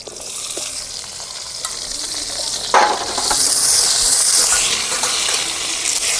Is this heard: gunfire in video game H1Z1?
no